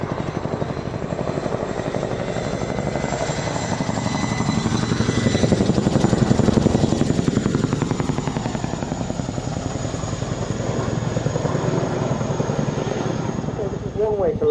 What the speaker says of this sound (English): To land a helicopter, which is actually a sort of a running landing.